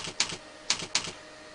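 Keys clack on a computer keyboard in short bursts, three or four quick groups of clicks separated by brief pauses, close and fairly quiet.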